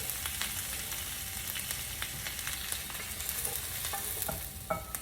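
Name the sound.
stir-fried cabbage being transferred in the pan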